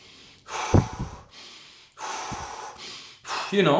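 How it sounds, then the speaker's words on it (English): Wim Hof style hyperventilating breathing before a cold shower: deep, forceful inhales and exhales in quick repeated cycles, loud and close, with sharp snorting gasps between breaths. "Just do my hyperventilating, holotropic breathing / Wim Hof breathing"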